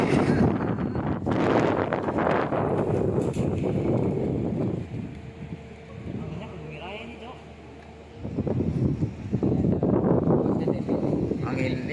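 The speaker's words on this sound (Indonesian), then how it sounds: "Angin ini apa angin barat." A strong west wind gusts outdoors, roaring and buffeting the microphone in heavy waves that ease briefly in the middle before surging again, with voices mixed in.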